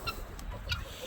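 Chickens and guinea fowl settling for bed in a large flock give a couple of soft, brief clucks over low background murmur, fairly quiet and close.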